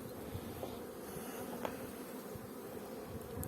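Bees buzz around brood frames pulled from a hive, a close, steady drone with small flickers as individual bees pass near.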